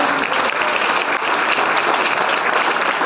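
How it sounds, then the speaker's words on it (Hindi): Loud, dense applause from a large audience at a Vestige business meeting in Hindi, steady and sustained throughout without a break. "जोरदार तालियां इसको बजनी चाहिए।"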